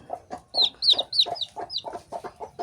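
Three brooding hens sharing one nest cluck in quick, close bursts, low throaty clucks mixed with sharper high peeps in an irregular rapid rhythm, with no human voices.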